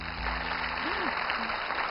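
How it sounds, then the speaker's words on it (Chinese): A studio audience applauds in a steady broadband clatter during a Chinese television program about the guqin, with a voice speaking over the clapping. "我觉得特别值得给掌声"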